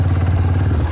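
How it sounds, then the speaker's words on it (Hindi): An off-road motorcycle labors up a dirt slope in the Margalla Hills forest, a brief loud, throbbing engine note with mechanical clatter, heard alone. "ये था गंदी चढ़ाई, लेकिन बाइक ने मज़े से कर ली।"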